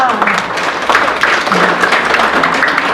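Guests at a Thai engagement ceremony break into applause, a full, continuous patter of clapping with a voice carrying over it throughout.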